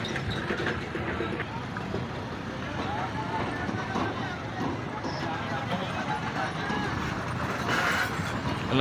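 Horse hooves clip-clop amid a busy horse market in Gujrat, Punjab, Pakistan, with steady crowd murmur and people talking throughout.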